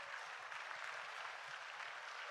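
Faint, distant applause from an audience at a live village concert broadcast in Ollolai, a soft continuous patter of clapping with no clear individual claps standing out.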